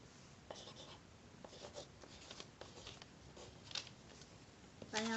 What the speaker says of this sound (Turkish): Kırmızı kalemle yazdım.